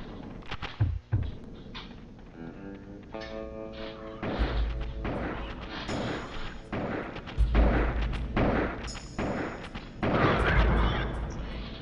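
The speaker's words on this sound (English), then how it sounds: "Man, that takes a while to shoot them with a shotgun." Shotgun blasts from the Duke Nukem: Time to Kill video game boom out as a series of loud, heavy bursts spaced a few seconds apart, each with a crashing impact tail, under a continuous layer of game noise.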